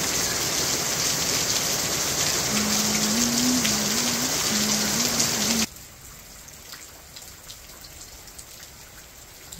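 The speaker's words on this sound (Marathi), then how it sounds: "पाऊस अजूनच जोरात वाढलाय." Heavy rain pours down steadily during an early-summer downpour in a village, a dense loud wash of drops that drops abruptly to a softer patter midway, with a steady tone humming beneath the first half.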